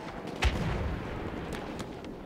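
Artillery fire in the video game Battlefield 1: a single heavy boom near the start, followed by a low rumbling battlefield din and faint distant cracks, with no voices.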